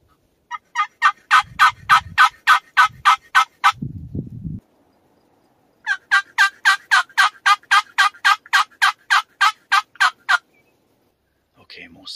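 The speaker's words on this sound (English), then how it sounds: "But now I'm hearing some gobbling from the northwest, which is kind of over my right shoulder." A wild turkey in the late hunting season gobbles in two long rapid bursts of repeated notes, loud and fairly close, with a short low rustle between the bursts and no talk.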